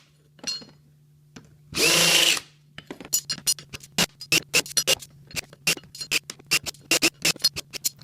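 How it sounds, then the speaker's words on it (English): A brief burst of drilling is followed by a series of sharp, rapid scraping and clicking strokes as a countersink bit removes a burr from metal, close and loud. "now I'm just using a countersinking bit to take that burr off"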